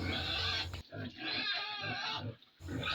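Pigs grunting and squealing in a pigpen on a small farm, loud and close in bursts separated by brief pauses, with a person talking faintly in between.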